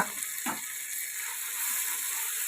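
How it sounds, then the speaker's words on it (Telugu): Masala spices frying in hot oil for a chicken pulao with amaranth greens and moong dal: a steady, close sizzle with a brief stir or clink early on, no talk. "మసాలాని మనం ఒక రెండు మూడు నిమిషాలు చక్కగా నూనెలో వేయించుకోవాలి"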